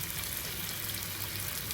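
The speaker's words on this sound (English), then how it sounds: "I'm just going to fry me up a couple of eggs and call it good" Bacon and eggs frying in a pan, a soft, steady crackle and hiss that holds evenly throughout at low volume with no voices.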